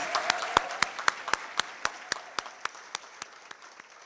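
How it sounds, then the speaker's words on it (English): Applause at a Teacher of the Year ceremony: a steady run of sharp, evenly spaced claps over a soft bed of wider clapping, tapering slightly toward the end. "Let's give our Teachers of the Year another round of applause, please."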